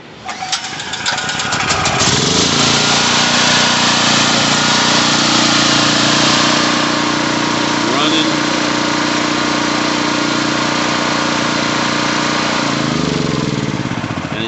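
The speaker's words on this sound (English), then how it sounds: "And I'll plug it up and start it up. It'll make noise" A Generac portable generator with a CO-sensing fault is started up close by: a brief cranking catch, then the engine settles into a loud, steady running drone that holds unchanged for the rest of the clip.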